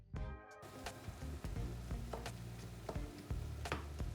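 Minced meat sizzles and crackles in a pan, a constant frying hiss punctuated by occasional stirring clicks and taps, fairly quiet and close.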